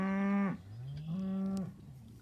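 Cattle mooing beside a creek, two long, loud, drawn-out moos one after the other, close by with no talk over them.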